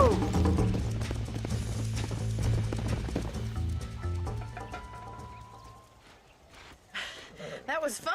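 Horse hooves gallop in Red Dead Redemption with loud rhythmic clip-clops and a whinny. The hoofbeats fade after about five seconds, and other game sounds follow.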